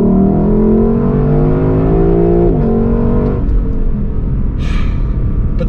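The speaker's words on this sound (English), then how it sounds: "But wait, I wanna floor it." A 2023 Lexus LC500 convertible V8 at full throttle, the engine note rising steadily through a gear before a quick shift and renewed pull, loud and close, with no talking.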